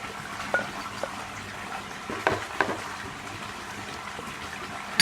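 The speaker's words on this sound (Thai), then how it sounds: "จากนั้นคนส่วนผสมทุกอย่างให้เข้ากันค่ะ" A spoon stirs salted Thai dipping sauce ingredients together in a bowl, with soft liquid swishing and a few scattered light clinks against the container, close and fairly quiet.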